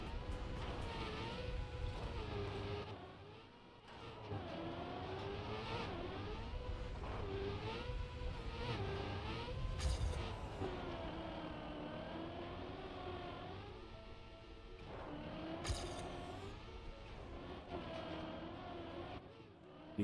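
A car engine drones steadily in a video game, rising and falling in pitch as it revs and drives, loud and continuous with a few brief swells.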